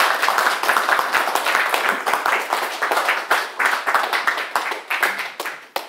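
Audience applause welcoming philosophy professor Stephen Priest before his talk, steady close clapping with distinct individual hand claps that gradually thin out toward the end.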